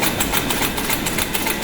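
The small engine of a thermoelectric generator runs and speeds up, a loud, fast, even mechanical chugging with a rapid pulsing rhythm throughout, no speech.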